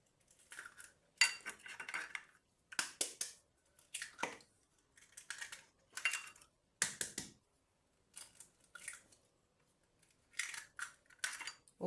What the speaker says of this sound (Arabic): وكنطرب البيض مزيان مع سكر سنيده